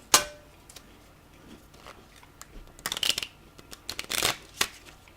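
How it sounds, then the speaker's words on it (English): A Morgan Greer tarot deck is shuffled by hand, close to the microphone: irregular papery riffles and sharp card snaps in uneven bursts, with quiet gaps between handlings. "When I see cards that don't shuffle, it's because your energy doesn't want to come together."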